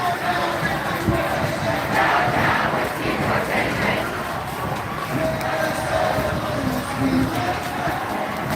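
A large crowd at a massive downtown Minneapolis protest chants and roars in a continuous wash of voices, moderately distant, with street noise mixed in and no single voice standing out.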